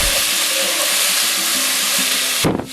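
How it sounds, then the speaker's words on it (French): Sliced onions sizzle loudly in a pan of sugar caramel, a dense, steady hiss with faint scraping of stirring, close up and continuous before it abruptly quiets at the end. "on fait revenir les oignons quoi au caramel"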